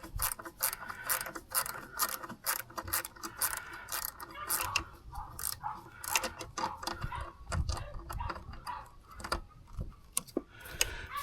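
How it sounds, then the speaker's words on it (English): A cheap cut-down Amazon wrench ratcheting, with rapid close metallic clicks coming in quick uneven bursts that repeat throughout. "That is a cheap Amazon wrench I cut down."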